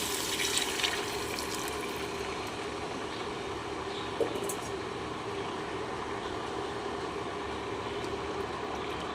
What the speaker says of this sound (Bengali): দিয়ে দিচ্ছি আমি এখানে তিনশো এমএল জল